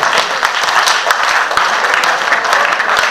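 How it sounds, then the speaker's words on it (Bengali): Hall audience at a foundation's seventh anniversary meeting gives loud, dense applause, many hands clapping steadily throughout with faint voices mixed in. "আমি সবাইকে হাততালি 3 বার হাততালি রিকোয়েস্ট করছি"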